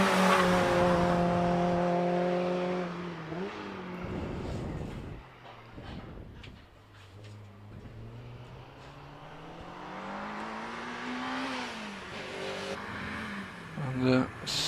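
A Renault Clio 182 race car launches at a hill climb, engine revving hard through gears then fading into the distance, with a commentator talking over it.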